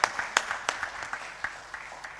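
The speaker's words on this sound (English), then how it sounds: "a big round of applause only on this account" Audience at a one-day tax conference clapping in applause, a short burst of scattered, fairly sparse hand claps that thin out toward the end, moderately distant in a hall with no talking.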